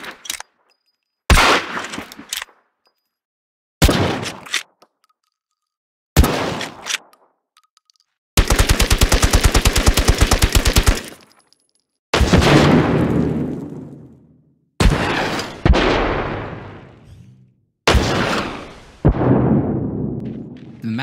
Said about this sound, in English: Additional sounds such as the shotgun's pump action and the rifle's bolt action were also added to match the game's animations